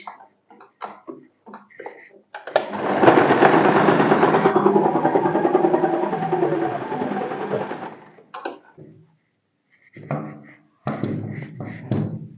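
A sewing machine runs a steady double stitch along rope for about five seconds, close and loud, with shorter bursts of stitching and taps before and after.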